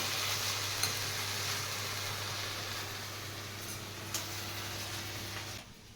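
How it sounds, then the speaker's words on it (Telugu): Dried red chillies and curry leaves frying in a pan, a continuous close sizzle with faint occasional ticks of a spoon stirring, steady and moderately quiet before cutting off at the end. "ఇదిగోండి మంచిగా కింది నుండి కలిపేసినాం కదా, లేకపోతే ఎండుమిరపకాయలు అడగంటినట్టు అవుతాయి"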